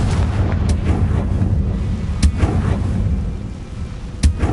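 Confringo spell blasts in a Harry Potter video game: a loud, continuous rumbling roar of fiery explosions with several sharp bursts cracking through, heavy and close, no speech.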